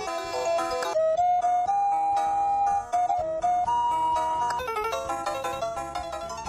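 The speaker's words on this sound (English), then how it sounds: "Cephal Wireless Visual Intercom Doorbell has 16 polyphonic ringtones for you to choose from." A wireless video intercom doorbell plays a bright polyphonic ringtone melody of layered tones, loud and clear, with no voices.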